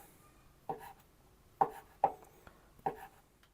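Suluguni cheese being cut into small cubes and grated: four separate soft, close chopping thuds at uneven intervals over a quiet background, no speech.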